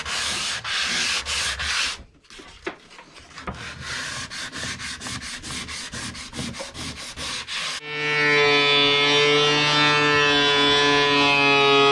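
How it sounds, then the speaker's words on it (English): A boat part's surface is sanded with rhythmic, harsh rubbing strokes, first slower then faster repeated passes, before a loud steady whine of a power tool takes over near the end. "So you can sand the surface of this nicely, and then hand sand the corners."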